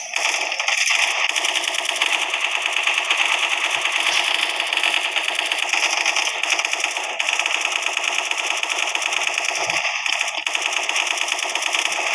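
A continuous, dense rattle of rapid-fire shots with no letup, bright and harsh, like a rotary gun spraying bullets in a game.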